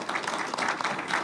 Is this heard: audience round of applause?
yes